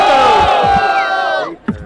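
A crowd at a Botafogo rap battle cheers and yells loudly for a rapper, a dense sustained roar that tails off, followed by a couple of brief thumps.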